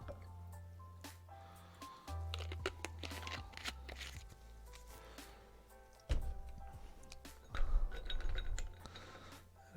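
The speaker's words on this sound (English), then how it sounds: "let's put a little club soda in this." Club soda is poured into a glass of gin with quiet fizzing, scattered drips and a few light glass clinks. The sounds are close and delicate, with no talking.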